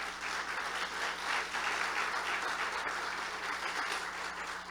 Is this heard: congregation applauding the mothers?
yes